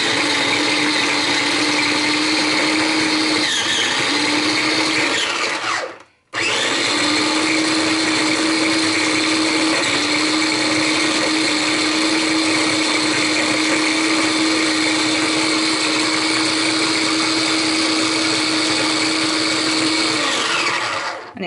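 A small food processor grinds bread into breadcrumbs with a loud, continuous motor whir. It cuts out briefly for a second, then restarts and runs steadily to the end.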